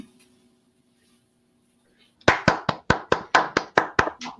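An online show audience claps in about ten separate sharp bursts, close and distinct, after two seconds of near silence.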